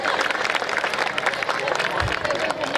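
An audience breaks into dense, continuous applause, a crowd clapping steadily and fairly loud, with voices mingled in.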